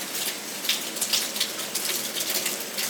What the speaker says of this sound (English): It's raining hardcore outside.